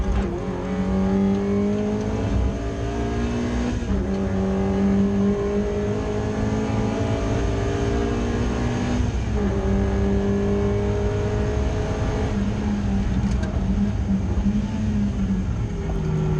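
A Ford Puma race car's engine drones loudly and continuously through a chicane at Oulton Park in third gear during a BRSCC Clubsport Trophy race, the pitch rising and falling as it shifts and accelerates, with no voices.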